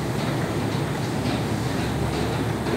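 A Moscow metro train roars along in a constant loud rumble and rattle, the steady noise of riding inside a moving carriage.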